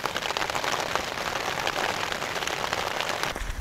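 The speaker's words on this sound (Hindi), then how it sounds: "अभी बारिश का नाम लिया, फिर से बारिश स्टार्ट हो गई" Rain falls steadily on a winter mountain campsite in Uttarakhand during strong wind, a dense, continuous patter close by with no voices.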